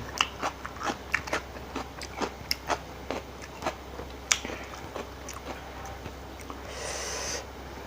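Crunchy bites and chewing of spicy Lao-Thai papaya salad with snail meat (tam sua hua hoi), a steady series of close, sharp crunches repeating roughly every half second, with no talk.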